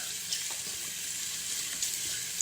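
Tap water runs steadily into a bathroom sink as someone washes their face, a continuous hissing splash with a few soft bumps, close by and without talk.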